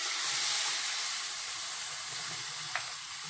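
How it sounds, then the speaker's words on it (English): Milk poured slowly into a pan of hot melted ghee and sooji, giving a steady close sizzle and steamy hiss that gradually eases, with a brief sharp crackle near the end. "So I'll just add in my milk slowly"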